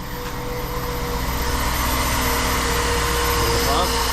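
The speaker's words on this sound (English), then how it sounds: "Yep, you hear the pump?" An auxiliary pump on a Chevy Silverado hums during a cold start beneath the loud, steady drone of the idling engine, a constant broadband whir with no breaks.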